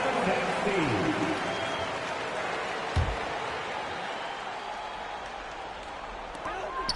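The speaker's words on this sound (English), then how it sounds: "Put your hands together, fans. Get a round of applause." Crowd applause in a basketball video game, a broad wash of cheering and clapping under an announcer's voice, with a sharp thump midway.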